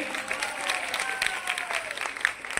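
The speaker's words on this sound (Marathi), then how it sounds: "जोरदार टाळ्या होते ठसाळे वहिनींसाठी." Enthusiastic applause from an audience at a Home Minister women's contest in Chiplun, honoring the winner; dense, continuous clapping with some crowd noise, fairly close.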